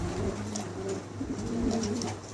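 A pair of fancy pigeons coos nearby in soft, repeated low warbling calls over a steady background hum, with no talking.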